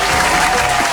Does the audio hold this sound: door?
no